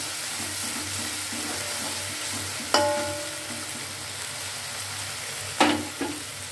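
Spices for sambal pete sizzle steadily in hot oil in a pan, a continuous close frying hiss broken by a few sharp clinks of a utensil stirring against the pan.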